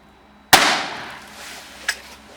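A sharp, loud Korsarz firecracker bang on New Year's Eve cracks out and rings briefly, followed by a smaller pop a moment later; no talking.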